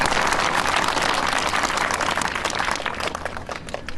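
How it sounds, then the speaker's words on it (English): A school audience gives sustained applause for a children's hospital president, dense and steady clapping from a large crowd that fills the room and thins slightly toward the end. "So give her a big round of applause"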